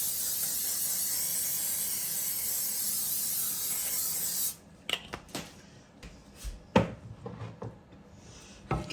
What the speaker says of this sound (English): let's spray the bottom of it with some cooking spray